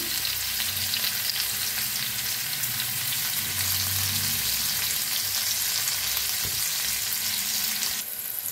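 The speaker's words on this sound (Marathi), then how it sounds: "तेल टाकलं का त्याच्यात घालूया मिरची जो बारीक कुटून घेतलेली आपण।" Crushed green chillies fry in hot oil in a pan for a spiced potato dish, giving a steady, dense sizzle that holds evenly throughout with occasional soft stirring scrapes.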